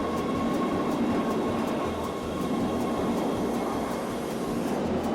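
Steady rumble and rattle of a moving train carriage, with a continuous low roar and faint rhythmic clicks throughout, no voices.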